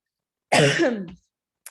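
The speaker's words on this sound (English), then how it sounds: "Let me mute myself real quick because I have got to cough." One harsh cough, close and loud, lasting about half a second in otherwise silent surroundings, followed by a tiny click.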